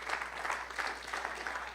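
A church congregation clapping hands together in praise, loud, continuous and slightly pulsing as a roomful of people applaud at close range with no talk over it.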